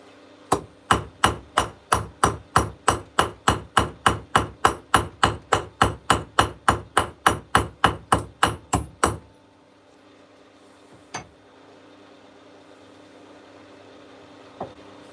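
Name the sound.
ball peen hammer shaping a coffee scoop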